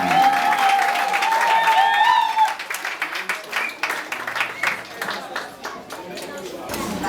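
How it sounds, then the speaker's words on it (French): Guests applaud at a civil wedding ceremony in Yaoundé as two couples rise, a dense burst of clapping that starts under a sustained tone and voices, then continues as sharp, close, irregular claps. "Et pendant qu'ils se lèvent, veuillez applaudir."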